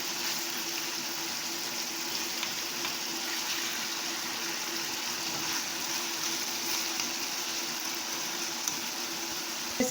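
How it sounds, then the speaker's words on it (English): Boiling water poured into a cooking pot of Jamaican-style brown stew belly pork, a steady, soft gushing hiss that stays even for the whole stretch. "I'm just adding some boiling water."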